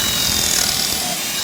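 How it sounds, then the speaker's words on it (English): A power drill runs continuously, drilling an angled pocket hole into a block of wood clamped in a pocket-hole jig. The motor whine and bit chatter are loud, close and steady for the whole stretch, with no talking. "take your drill motor"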